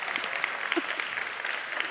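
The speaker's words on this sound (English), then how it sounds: "Round of applause for Rui." Audience applause at a live AI summit, a steady wash of many hands clapping from a sizable crowd, moderately loud and continuous throughout without speech.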